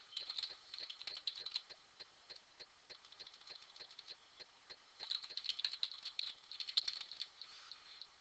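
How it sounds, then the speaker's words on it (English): Soft, fast patter of keys as an email address is typed on a computer keyboard, faint and close, in irregular bursts with a short pause in the middle. "go ahead and type in your email address"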